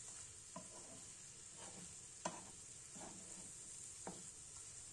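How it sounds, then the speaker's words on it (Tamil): A spicy prawn fry with turmeric and chili powder sizzles steadily in a pan, with a high continuous hiss and a few soft scraping stirs of a spoon at irregular intervals. "இந்த மாதிரி நல்லா மிக்ஸ் பண்ணி விடுங்க."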